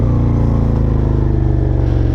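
Loud, close Suzuki SV650 V-twin engine with a burbling, beefy exhaust, steady revs pulsing with an uneven, thumping cadence and no voices over it.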